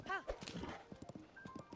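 Horse hooves clip-clop in The Legend of Zelda: Tears of the Kingdom, a quick run of close, rhythmic game hoofbeats mixed with a brief whinny-like tone and faint in-game effects.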